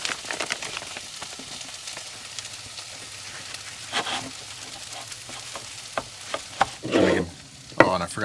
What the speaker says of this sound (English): while we wait for that bok choy to finish cooking